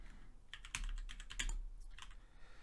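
Someone types on a computer keyboard during a programming tutorial, a quick, irregular patter of close keystrokes with a few heavier clacks and brief pauses, quiet and with no talk over it.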